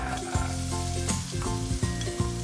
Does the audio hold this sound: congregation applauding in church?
no